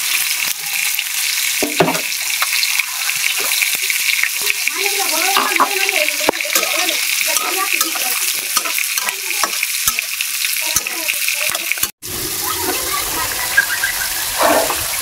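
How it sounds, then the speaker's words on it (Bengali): Pieces of pangas fish go into a pan of potatoes frying in oil, sending up a loud, steady hiss with scraping stirs and occasional pops throughout, briefly cutting out near the end. "এখন এটার মধ্যে মাছগুলো দিয়ে দিলাম"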